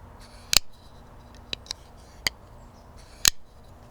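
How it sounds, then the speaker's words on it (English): A Strider SMF folding knife is flicked open and shut, giving four sharp, crisp metallic snaps spaced unevenly apart against a quiet room background. "I want you to hear the difference in sound that these two knives make. First, the Strider SMF."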